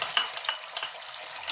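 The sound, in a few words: egg frying in oil in a pan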